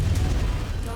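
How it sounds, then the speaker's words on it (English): A mech's reactor exploding in MechWarrior 5, a deep, rumbling boom that holds steady for a full second, heavy in the low end, with talk mixed in. "Try to stay out of the explosion."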